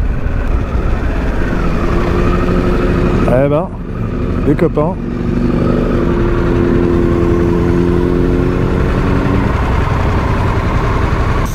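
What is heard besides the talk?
Harley-Davidson Pan America motorcycle accelerating in sport mode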